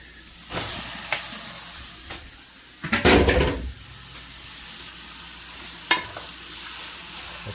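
Chicken being stirred into masala in a pot for a spicy country-chicken curry: steady sizzling hiss with scraping strokes and a louder clatter midway, no talk.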